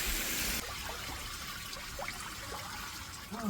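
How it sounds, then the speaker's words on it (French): A cold shower runs continuously outdoors beside a pool, giving a steady, close hiss and spatter of falling water. "Oui. C'est une douche froide."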